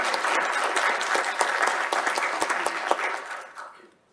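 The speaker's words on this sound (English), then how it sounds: "please give a warm round of applause for Professor Anna Moore" Warm audience applause for Professor Anna Moore at a space industry networking event in Canberra, steady clapping from a modest crowd with some distinct claps standing out, holding level and then tapering off quickly near the end.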